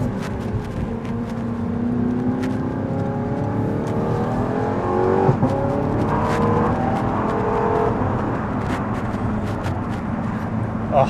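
Audi R8 engine with its exhaust valves open, a loud, steady engine drone whose revs rise and fall from inside the car, with a voice talking over it.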